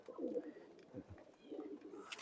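A Chot breed pigeon of an old Khulna bloodline gives low, gurgling coos at close range, two quiet phrases with a short gap between them.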